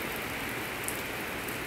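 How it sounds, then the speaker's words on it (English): Rain falls steadily outdoors during a trailer build, making a constant, even hiss of drops with no pauses and no voices. "now we have a rain delay"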